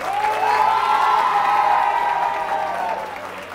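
Audience applause for a school quiz team, Institut Camplanes group B, on a Catalan TV quiz show, a steady dense wash of clapping with some cheering, sustained throughout.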